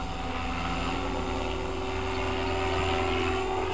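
An RC helicopter engine runs steadily in idle up, a loud continuous buzzing drone with rotor whir that holds constant without pause.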